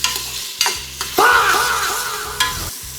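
Chopped tomato drops into hot oil with onions and biryani spices and sets off a loud, close sizzle, with a few stirring knocks and scrapes in a pan.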